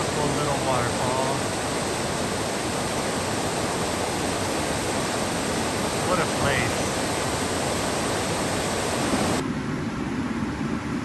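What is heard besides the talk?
small waterfall in a canyon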